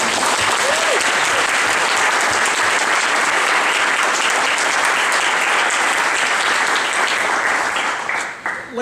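A graduate awards ceremony audience gives a sustained round of applause for the award winners, with dense, steady clapping throughout that tapers off at the very end.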